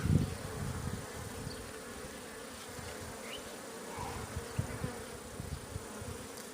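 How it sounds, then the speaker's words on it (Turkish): Steady buzzing of many honeybees, including drones, close by inside an enclosed hive, a continuous low drone with occasional louder pulses and no talking. "Erkek arı."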